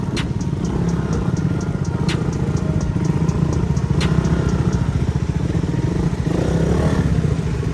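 A motorcycle engine runs steadily and loudly up close, its rapid putter continuing throughout with occasional faint clicks and no voices.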